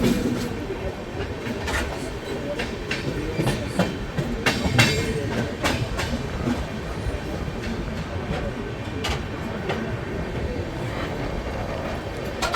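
Mahakaushal Express pulling into Satna Junction, a steady rumble of rolling railcars with rhythmic clickety-clack wheel clicks and occasional squeals, continuous and close throughout.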